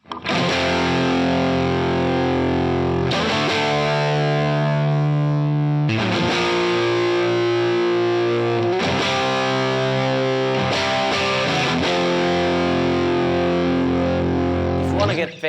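Heavily distorted electric guitar hammers out sustained power chords in a dense, loud wall of sound, the chord changing roughly every three seconds, played alone without talk.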